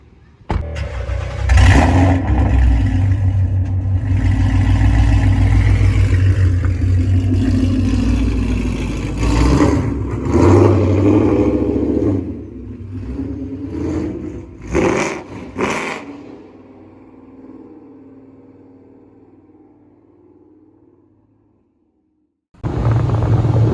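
A modified car with an aftermarket exhaust rumbles loudly while driving, revving in strong bursts. The engine note drops, fades to near silence, then roars back at the end.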